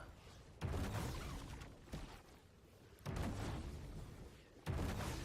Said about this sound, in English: got some double gunshots